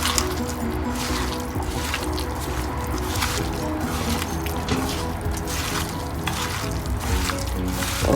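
Sambar ingredients are squished and worked by hand in a bowl, making a continuous wet, squelching, dripping sound close up, with a low steady hum underneath.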